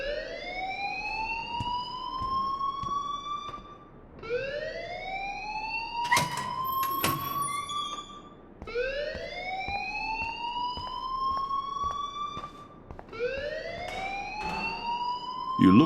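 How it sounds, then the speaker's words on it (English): A high school fire alarm in the game Life Is Strange blares in repeated rising electronic whoops, each sweep lasting a few seconds, loud and continuous, with a brief sharp clatter midway. "please turn off that alarm since that's your job."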